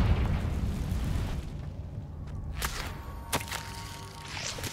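A Confringo fire spell cast in Hogwarts Legacy bursts with a loud rumbling blast that decays into a low roar, followed by a couple of sharp cracking pops.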